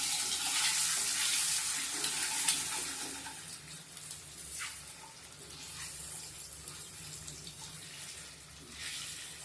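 Halved boiled eggs fry in hot oil with pepper and salt, giving a steady close sizzle with occasional scraping stirs through the pan.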